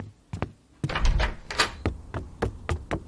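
Several sharp knocks on a door in an audio drama, coming in uneven bursts and clusters. They sound close and dull, with no voices over them.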